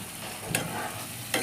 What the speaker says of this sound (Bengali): মশলাটা আমি একটু জল দিয়ে দিয়ে কষে নিচ্ছি